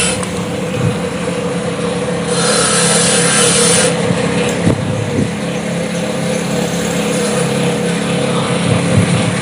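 A stone is sanded by hand with coarse P80 grit sandpaper during polishing, producing a steady, close, gritty rasping scrape with a few louder strokes and no voices.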